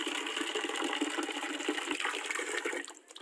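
Water pumped from a tank on a farm lot in Rosario, Batangas rushes out in a steady, loud, continuous gush, then eases off near the end.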